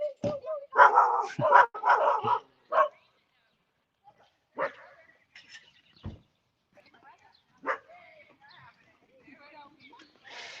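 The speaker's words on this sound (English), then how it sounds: "Y'all want to see all the crazy dogs?" Several dogs bark and yip in short excited bursts, loud and close at first and then in scattered single barks and whimpers with quiet gaps between them.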